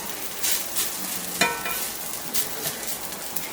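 Salmon patties fry in a pan over medium-low heat, a steady close sizzle with soft crackles and brief spatter bursts throughout, and no voices.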